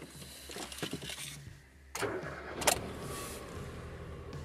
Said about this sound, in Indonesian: Suara starternya sih mirip-mirip.